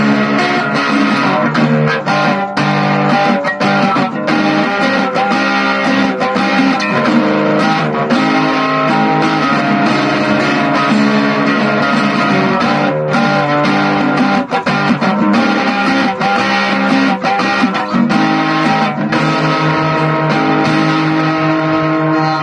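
Acoustic guitar played through a small LEKATO amplifier with its overdrive switched on, a dense, gritty distorted strumming that stays loud and continuous throughout with no talking over it.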